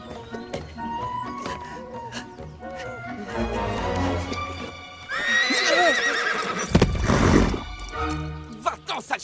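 A horse neighs and whinnies loudly and close by, repeated shrill cries with clip-clopping hooves and outdoor commotion, while people's voices are heard around it.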